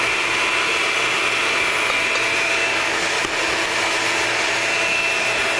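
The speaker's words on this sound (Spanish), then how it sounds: "que la batidora vaya haciendo todo" An electric mixer beats sugar and egg for a cinnamon roll dough, giving a steady, loud motor whir with no break and no speech.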